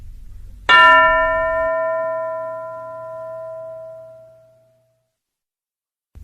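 A single bell is struck once during a classroom lesson, ringing out loud and clear before its tone slowly fades over about four seconds, with no voices.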